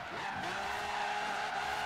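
A BMW X6 drifts in Forza Horizon 3, its tires squealing in a loud, sustained screech that bends in pitch over the engine's steady roar, with no voices.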